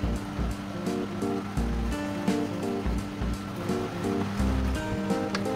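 Meat and peppers for Leskovac mućkalica fry in a pan at medium heat, a steady close sizzle and hiss that runs unbroken under a faint tonal background.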